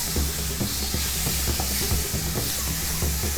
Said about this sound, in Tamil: இப்போ நான் தக்காளி சேர்த்துக்கிறேன். தக்காளியை சேர்த்துட்டு நல்லா வதக்கிக்கணும்.